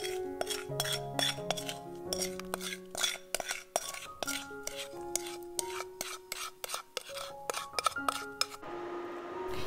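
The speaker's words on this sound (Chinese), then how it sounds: "把糖渍草莓倒入锅中" Sugared strawberries are tipped from a bowl into a pot while making French strawberry jam, giving repeated clinks and scrapes of utensils against cookware over soft tonal background music.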